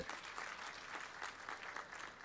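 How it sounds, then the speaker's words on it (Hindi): An audience at an outdoor tree-planting event claps steadily to welcome guests, a faint and even patter of many hands with a slight murmur beneath. "उनका भी ताली बजा के स्वागत करें"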